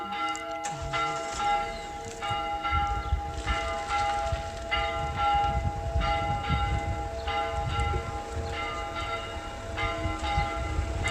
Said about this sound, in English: I'm recording the bells because they're really intense.